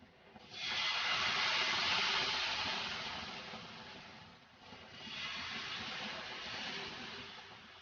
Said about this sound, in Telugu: కొద్దిగా ఆయిల్ వేసుకొని మీడియం ఫ్లేమ్లో కాల్చుకోవాలి